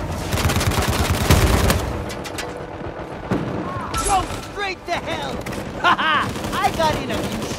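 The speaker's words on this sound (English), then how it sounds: "I got in a few shots" Gunfire from an online match of Uncharted 4, with rapid bursts of shots and heavy impacts early on, then sporadic cracks and whizzing effects as someone talks over the action.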